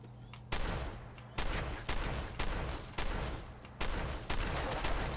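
Shotgun blasts in Fallout 4 go off at a steady pace, roughly one booming shot every half second to second, each with a loud crack and a rumbling decay, no voices over them.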